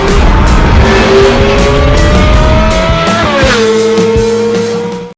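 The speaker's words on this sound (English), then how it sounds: "Driving a Lamborghini Miura!" A Lamborghini Miura is driven hard, its loud engine revving and shifting with a sharp drop in pitch mid-pull, very close and alone without talk.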